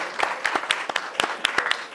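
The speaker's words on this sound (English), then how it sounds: "hey, clap it up, please" Live audience clapping at an interview show, a light scattered round of applause with separate distinct claps, fairly quiet and close.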